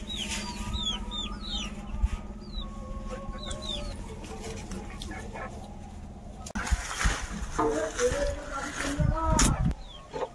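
Chickens cluck and chirp in the background of a busy yard, with a dog barking and people talking nearby; short bird calls recur throughout.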